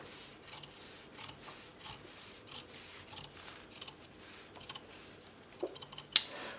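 Scissors snip steadily through denim jeans fabric, trimming the fly seam allowance in a quick rhythm of soft, close cuts over a faint background hiss.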